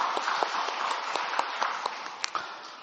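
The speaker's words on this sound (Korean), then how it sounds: "영광의 박수를 주님께 돌리십시다." A church congregation applauds during a Sunday service, a dense wash of many hands clapping at moderate volume, with a few sharper individual claps standing out before it fades slightly toward the end.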